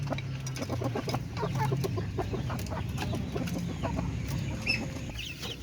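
A Darag hen clucks inside a cage, steady soft clucks and low murmurs close by, with faint background fowl and farm noise throughout.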